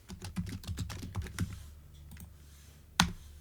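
Java code being typed on a computer keyboard: a quick, close run of crisp key clicks that pauses, followed by one louder keystroke near the end, with no talking.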